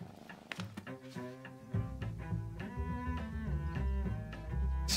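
A cat in the video game Behind the Frame purrs softly and rhythmically against a gentle musical background, faint and close, with no talking.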